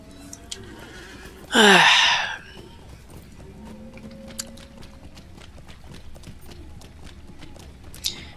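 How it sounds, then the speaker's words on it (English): Horse sounds in the online game Lord of the Rings Online: a short, loud whinny-like burst near the start, then faint, light hoof taps over a quiet background. "I'm going to get a horse."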